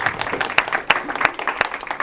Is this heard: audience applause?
yes